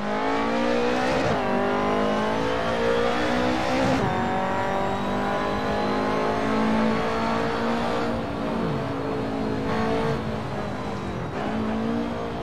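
A 1986 BMW M3 E30 Group A race car in Assetto Corsa, its engine droning loud and steady as it brakes and slides, with the revs dropping and climbing again several times.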